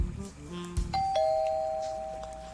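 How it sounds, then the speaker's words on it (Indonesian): A house doorbell rings with a clear two-tone chime whose second note rings on and fades, following a brief low rumble and clatter at the start. "Baru saja teleponan terdengar suara bel rumah."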